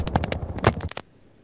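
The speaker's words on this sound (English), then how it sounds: "You can hear your gunshots." A rapid burst of machine-gun fire from the video game Battlefield 3 rattles out in quick successive shots for about a second, then stops.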